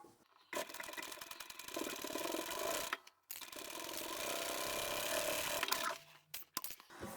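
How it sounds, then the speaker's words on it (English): A sewing machine stitching straight across the bottom of a fabric tablet pouch, a steady close mechanical whir in long runs broken by short pauses. "And then I can just sew straight across the bottom."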